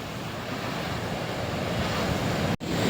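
Strong wind roaring over a rough sea during a fishing trip, waves splashing constantly, loud and steady with a brief dropout near the end.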